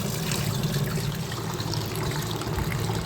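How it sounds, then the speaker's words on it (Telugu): Toor dal is being washed in water, with continuous swishing and trickling of liquid, close and steady, with no talk. "వాటర్ వేసుకుని శుభ్రం కడిగేసిన తర్వాత"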